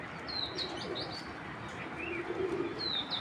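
A pigeon coos low and soft near the end, amid faint chirps of other birds and a steady background hiss.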